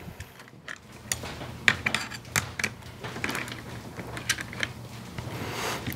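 Allen key tightening socket cap screws on a wing grip of a RED Raptor cinema camera, a run of small metallic clicks and ticks at an uneven rhythm, close and fairly crisp.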